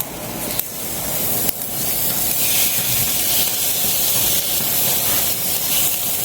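Tuna pieces and fish roe frying in hot oil for a spicy fish fry, a steady loud sizzling hiss that runs unbroken, with a couple of brief sharp pops near the start.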